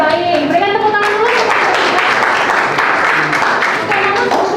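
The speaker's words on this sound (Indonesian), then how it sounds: "Berikan tepuk tangan dulu." A classroom of students applauds after a group presentation during a teaching practicum, loud, close clapping heard together with children's voices and chatter throughout.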